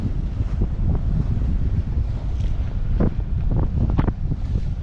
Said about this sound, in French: il y a 15 nœuds de vent